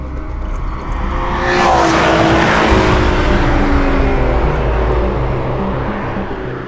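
A Renault Clio V6 Phase 2 with its engine mounted behind the seats runs loud and close, a deep rumbling roar that builds over the first seconds and then holds steady, with no voices.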